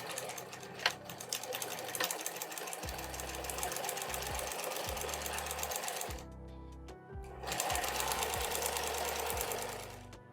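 A sewing machine stitches a quarter-inch seam in a thin tote bag lining, running in steady bursts with short pauses between runs, close and continuous over a quiet room.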